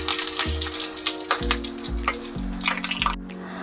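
Dried red chilies and curry leaves crackle in hot coconut oil for a Kerala pumpkin and bean erissery, a busy close sizzle full of quick pops, over a low steady tonal hum and without talking.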